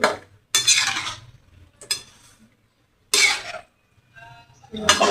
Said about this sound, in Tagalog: haluin lang natin ng maganda-ganda